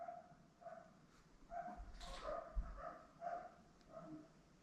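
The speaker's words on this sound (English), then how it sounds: "when their dogs bark all day" Several neighbor's dogs bark in short repeated bursts at a moderate distance, with a few yips and a whimper mixed in over a steady low background.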